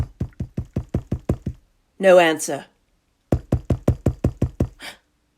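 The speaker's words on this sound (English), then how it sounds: "I knocked on the brick house." Two rounds of seven sharp knocks on a brick house door, evenly spaced and loud, with a spoken phrase between them.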